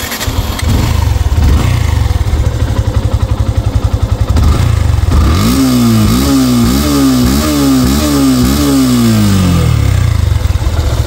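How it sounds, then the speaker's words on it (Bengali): A second-hand Yamaha FZS version 2 motorcycle starts up and idles with a rapid, close, loud putter, then is revved repeatedly in a series of rising and falling throttle blips. "স্টার্ট করে সাউন্ড কন্ডিশন দেখাবো"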